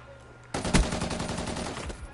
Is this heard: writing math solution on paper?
no